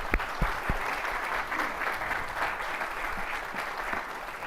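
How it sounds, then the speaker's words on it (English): An audience at a university event applauds their president with a steady wash of clapping that holds at an even level for several seconds, fairly distant in a large room. "So another round of applause for our president."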